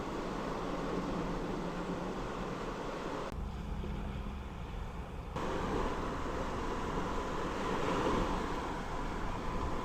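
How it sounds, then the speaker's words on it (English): Steady wind roars across an open microphone beside the water on the Lamar side of a causeway, a dense continuous rush that briefly thins for a couple of seconds before returning just as strong. "We have the wind blowing at"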